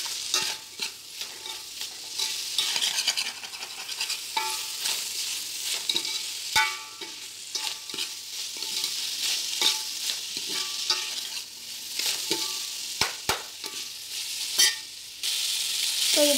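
Goat intestine stirred in a pan with turmeric and rock salt, village-style: continuous sizzling with repeated scraping and clacking strokes of a utensil on metal, close and fairly loud, going on steadily without speech.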